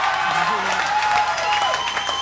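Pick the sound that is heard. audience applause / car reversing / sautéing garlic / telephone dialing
audience applause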